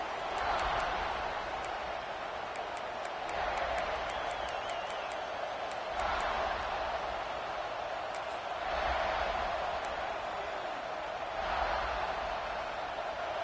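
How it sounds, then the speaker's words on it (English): Stadium crowd in the video game College Football 26 at a South Carolina vs LSU matchup, a steady loud roar that swells in repeated waves over a continuous bed of noise. "This crowd ready to make its presence known."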